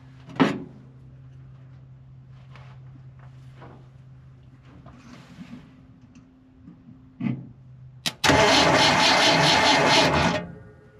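A few scattered clicks and knocks come first in a quiet space, then a 1978 Ford F100 engine cranks over loudly and steadily for about two seconds before stopping abruptly.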